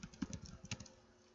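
A command typed on a computer keyboard in a Packet Tracer network exercise: a quick burst of close, soft key clicks in uneven rhythm, tapering off after about a second, with no talking.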